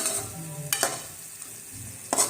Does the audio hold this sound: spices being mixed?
yes